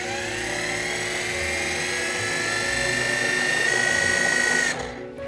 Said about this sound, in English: we're going to process it until it's nice and smooth